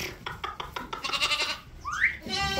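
Large, heavy sheep and lambs of the Țurcană breed bleat in a pen, several rough overlapping calls close by with one higher rising cry, over a murmur of background noise.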